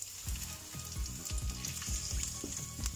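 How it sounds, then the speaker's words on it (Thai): Garlic sizzles in hot oil in a pan while kale is being stir-fried, a close, steady crackling hiss broken by repeated scraping strokes of a utensil, with no talking. "เดี๋ยวจะผัดแล้วนะคะมาผัดผัดผัดผัดผัดค่ะนะจ้า น้ำมันร้อนแล้ว"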